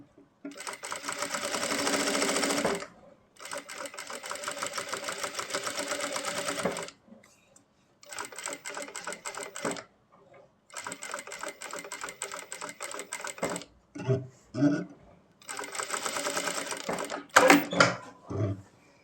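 A sewing machine stitches a kurta neck in several long bursts of rapid mechanical clatter separated by pauses, with short handling knocks near the end.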